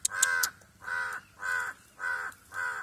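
A crow caws near a tree where cats have climbed, giving five harsh, evenly spaced calls at a steady rhythm, fairly close and loud, with no talking.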